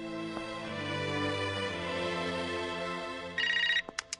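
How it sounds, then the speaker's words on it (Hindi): An old-style household telephone rings in a Hindi film's Karwa Chauth scene. Two sharp bell rings cut in near the end after a sustained music passage, followed by a couple of brief trailing bursts. "वो पूजा घर पे फोन ट्राई कर रही होगी"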